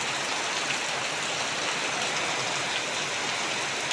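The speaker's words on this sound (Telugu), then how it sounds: "భయంకరంగా వర్షం పడుతుంది ఫ్రెండ్స్" Heavy rain pours in a dense, unbroken roar, loud and close, with no voices.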